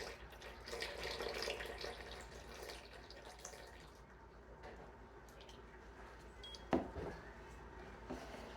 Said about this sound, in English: I'm going to add water and get up to 600 grams total.